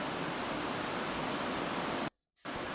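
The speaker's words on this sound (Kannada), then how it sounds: "ಮಳೆ ಸೌಂಡ್ ಜೊತೆ ಮಿಕ್ಸಿ ಸೌಂಡು." A mixer grinder roars in a dense, constant rush as it grinds lentils and dried chillies into sambar powder, with rain falling outside. The noise cuts out briefly near the end, then resumes.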